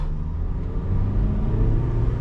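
A 2014 Honda City 1.5 E automatic car engine on a test drive, heard from inside as a steady low rumble and whir that builds slightly as it accelerates.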